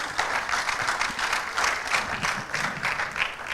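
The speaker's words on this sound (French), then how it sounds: "je vais vous redemander d'applaudir pour qu'on enchaîne." Steady audience applause fills a film club screening hall after a showing of the film, dense continuous clapping at moderate volume with no voices over it.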